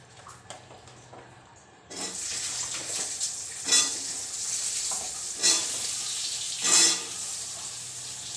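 Cut potatoes drop into hot mustard oil tempered with cumin, bay leaf and asafoetida, bursting into a loud hiss after a quiet start, with several sharper sizzling flare-ups as they are stirred.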